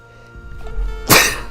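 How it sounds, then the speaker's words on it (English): A single short sneeze bursts out close and loud after a brief quiet lead-in, alone with no talk around it. "Sneeze."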